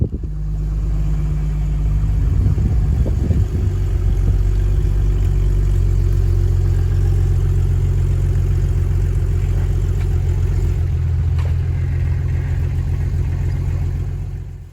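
A Jeep Grand Cherokee ZJ with the 4.0 inline-six, running on LPG, idles with a steady low rumble. It gives a brief rev early on, then settles back into an even, close idle with no voices.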